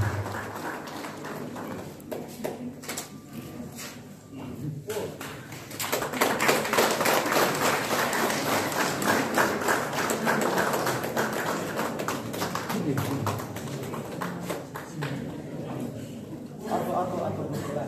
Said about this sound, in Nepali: जोरदार तालीद्वारा उहाँहरूलाई बधाई शुभकामना दिने यहाँबाट अनुरोध गर्दछु